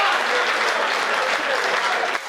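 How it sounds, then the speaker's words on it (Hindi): An audience at a comedy poetry gathering claps with raised hands, a dense, loud burst of applause that runs steadily and then drops off abruptly at the very end. "हाथ खड़े करके तालियां बजाओ जरा एक बार साहब।"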